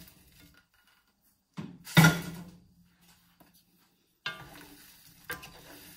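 Pork and seasoned potatoes stirred in a frying pan for a spicy Portuguese-style pork dish, with a couple of sharp scraping stirs over a soft sizzle, then quieter stirring later, no talk.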